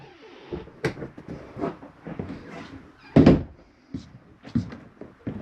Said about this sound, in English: These doors you want to snap closed for traveling.